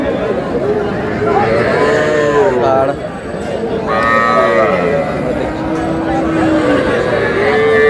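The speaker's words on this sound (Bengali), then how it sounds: "এটা ষাঁড়," Bulls, young bull calves and heifer calves low and bleat in repeated drawn-out calls at a busy rural cattle market, Aftabganj haat, close by over a bed of crowd chatter.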